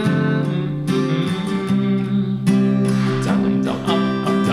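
Acoustic guitar strums chords in a steady down-and-up rhythm, bright and close, with crisp string attacks and a quick fill.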